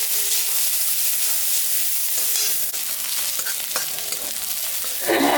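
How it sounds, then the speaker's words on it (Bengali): Onions and green chillies fry in hot oil in a pan with a loud, crackling sizzle, stirred now and then, ending in a brief burst of scraping and louder spattering. "পেঁয়াজ আর কাঁচা লঙ্কা দুটা ভাজা ভাজা করে"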